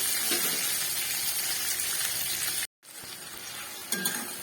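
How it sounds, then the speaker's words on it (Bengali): Chopped medium tomatoes fry in a pan with a dense, even sizzle, briefly broken by a sudden gap, then resuming with a light clink of a utensil near the end. "টমেটোটাকে আমি একটু ভালো করে ভেজে নেব।"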